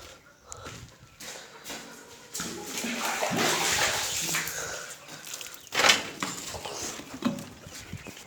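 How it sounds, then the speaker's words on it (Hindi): Water poured out for pet pigeons, a splashing, gushing pour that swells for a few seconds and then tapers off into lighter splashes and knocks, close by. "अब मैं इनको पानी डालता हूँ।"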